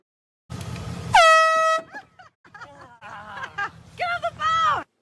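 A loud air horn blast jolts someone awake in a prank, sounding close for about a second, then startled cries and frantic talk follow.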